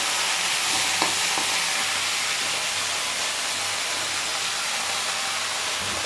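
Mixed chopped, washed leafy greens hit a hot frying pan, giving a loud steady hiss and sizzle with a faint clink near the start, no voices.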